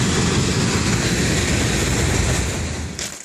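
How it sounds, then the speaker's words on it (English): Loud, close rushing rumble of a train rolling past on the tracks, steady and then beginning to fade; no talking. "since the train just came by"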